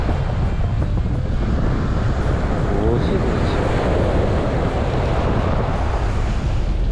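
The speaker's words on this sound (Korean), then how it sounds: "바람이 너무 부네요" Strong wind roars steadily at a sandy beach during surf fishing, a constant broadband rush with buffeting against the microphone, mixed with the wash of waves.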